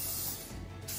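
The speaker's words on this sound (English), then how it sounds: "I'm gonna use some cooking spray to spray it" Cooking spray hisses from a can onto an open Vevor waffle maker in a home kitchen, a brief close, steady hiss that cuts off near the end.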